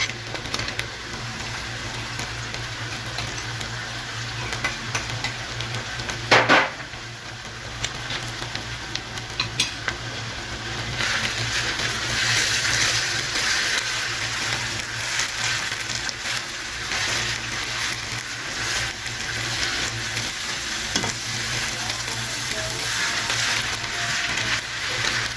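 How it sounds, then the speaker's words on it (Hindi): Fried keema has tomato puree added in a pan and stirred. A spoon scrapes and clinks in an uneven rhythm over a low, steady hiss, with one sharp clank early on. "ये कीमा फ्राई हो गया है। अब इसके अंदर हम टमाटर प्यूरी डाल देते हैं।"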